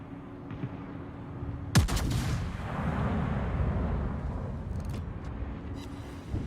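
Heavy naval gunfire from a warship in the World of Warships game: one sharp, loud blast followed by a long rumbling boom that decays slowly, with faint distant reports and a steady background hum.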